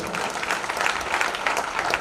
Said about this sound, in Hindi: उसके लिए एक बार जोरदार तालियां हो जाए